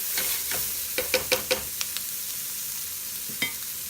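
Meat for a bourbon meatloaf browning in a pan, with a steady close sizzle and several sharp scraping stir clicks in a quick cluster, then one more near the end, no talk.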